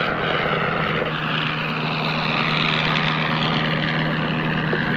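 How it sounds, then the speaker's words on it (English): An Avro 504 biplane drones in flight, its propeller engine a steady, loud, continuous hum heard close throughout with no other sound. "airborne within a couple of days on his first instructional flight in an Avro 504"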